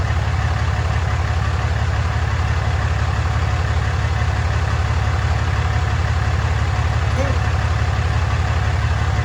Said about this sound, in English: Listen to that baby purr. Can't beat the sound of a Cummins.